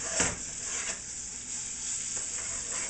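Prosciutto sizzles in a frying pan, a steady close crackling hiss with a few louder spits and pops rising and falling over three seconds.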